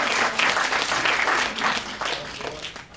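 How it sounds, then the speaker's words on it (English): An audience at a medical lecture applauds a volunteer, Mandy Hughes, with a full round of clapping that swells and then tapers off toward the end. "Give a round of applause."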